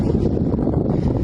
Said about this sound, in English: it's probably windy as all get out because it's windy out